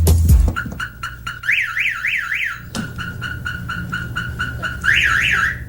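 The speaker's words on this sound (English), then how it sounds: "every time I touch the car, the damn alarm goes off" A loud, close car alarm cycles through warbling, wailing tones and steady beeps, shifting patterns every few seconds.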